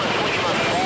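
Rescue helicopter hovering low over water during a sea rescue, giving a steady, close, broadband rotor and engine roar that fills the whole moment without break.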